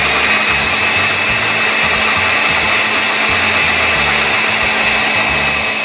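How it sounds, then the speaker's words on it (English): Kitchen blender whirring steadily and loudly while pureeing a homemade hummus base, a constant motor drone with a fixed hum and no voices over it. "Okay, so we're going to blend that for approximately a minute."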